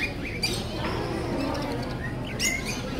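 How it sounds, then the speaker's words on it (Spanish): Small birds chirp and tweet at an outdoor flea market stall, quick high twitters and calls repeating over a murmur of ambient crowd noise. "Son pajaritos, mira qué bonitos los pajaritos"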